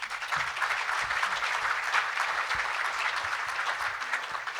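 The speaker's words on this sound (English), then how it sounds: "Round of applause for all of them." An audience applauds steadily at a City Club of Chicago event. The clapping is dense and sustained, moderately loud and close, with no talk over it.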